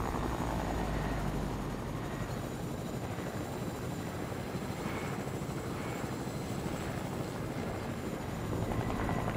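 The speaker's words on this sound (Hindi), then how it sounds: "हेलीकॉप्टर चला।" A helicopter in the Fortnite video game keeps up a constant rotor and engine roar, steady and fairly loud throughout, with a low pulsing thump and no talking.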